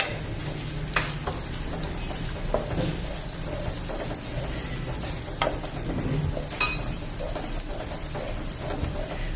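Onions frying lightly in oil in a pan for khara masala keema, a continuous close sizzle like steady rain, with occasional sharp clicks and scrapes of stirring.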